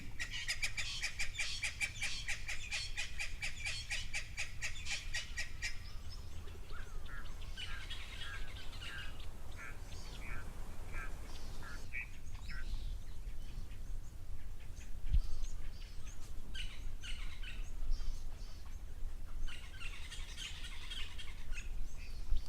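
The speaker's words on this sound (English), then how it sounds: "There's a red-billed buffalo weavers calling now." Red-billed buffalo weavers call at an outdoor waterhole: a rapid, busy chatter at first, then scattered chirps and squawks that carry on throughout over a low, steady background rumble.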